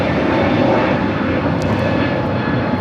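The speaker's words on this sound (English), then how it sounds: "that American Dreamliner that we saw take off here on the south side heading to Philadelphia" American Boeing Dreamliner taking off from the south side of LAX airport, a loud, continuous roar of jet engines heard from a distance with no voices.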